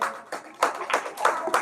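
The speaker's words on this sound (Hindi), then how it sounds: "जोरदार तालियां।" An audience at a coaching centre's annual function claps in uneven bursts of handclaps, sparse at first and then building into a few close, loud rounds.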